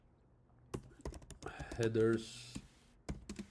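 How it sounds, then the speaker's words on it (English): Computer keyboard keys click in scattered quick taps as a kubectl command is typed, someone speaking over part of it. "you can type in kubectl get ns no"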